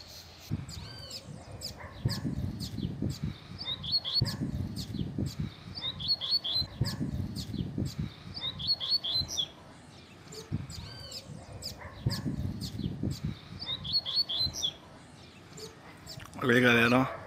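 Coleiro (double-collared seedeater) songbird singing in repeated bright trilling phrases, close and clear, with someone talking over much of it.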